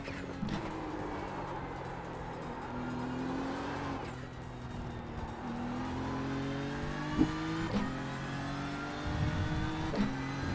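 A race car engine in the iRacing simulator drones steadily, its pitch climbing through the gears and dropping at each shift, with brief dips and bursts of revving on a practice run.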